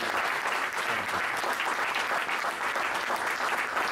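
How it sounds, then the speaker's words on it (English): An audience gives a sustained, dense round of applause for veterans at a military tribute event, steady and loud throughout with no talk over it. "Will you join me in giving up a big round of applause for these ladies and these veterans?"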